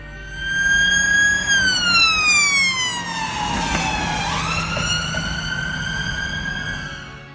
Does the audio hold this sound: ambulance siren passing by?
yes